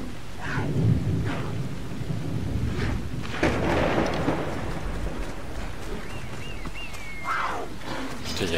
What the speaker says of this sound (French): Ah là, c'est carrément un orage qu'on va avoir.